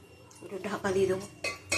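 A lid clinks down onto a cooking pan, a few close metallic knocks and rattles over a brief moment, with a voice speaking quietly underneath.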